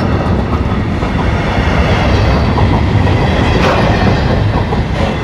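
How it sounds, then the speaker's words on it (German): A diesel-electric train, probably a VW freight train, rolls past close by on its rails. The loud, dense rumble and steady clickety-clack of the wagons fill the whole stretch without letup. "Das ist der VW-Zug höchstwahrscheinlich."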